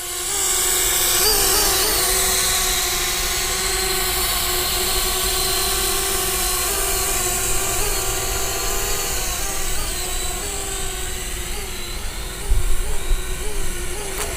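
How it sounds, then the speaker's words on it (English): A JXD 523 Tracker mini selfie drone flies steadily, its small motors giving a loud, continuous high whine that shifts slightly in pitch as it maneuvers, close by throughout with a few brief bumps near the end. "I'm just controlling the drone with the phone, with the virtual joysticks that are on the phone"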